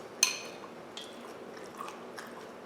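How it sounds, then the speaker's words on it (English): Close, quiet chewing of Cascadian Farm organic cereal, beginning with one sharp crunchy bite followed by a few softer, irregular crunches against a near-silent background. "How can I start chewing?"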